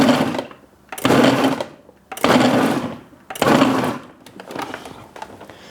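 A food processor pulses chopped onion for pico de gallo in three loud, close motor bursts of about a second each, with short pauses between them, then a fainter, choppier run of whirring.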